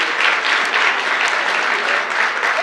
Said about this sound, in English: Big applause for Mom.